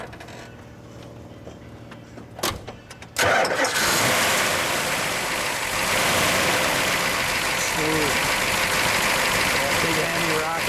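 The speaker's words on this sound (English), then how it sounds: "So let's start her up. We'll get a little exhaust note." A 1970 Dodge Charger R/T with a 426 Hemi and 4-speed cranks with a couple of clicks, then fires up into a loud, rumbling idle that keeps running steadily, with voices faintly underneath.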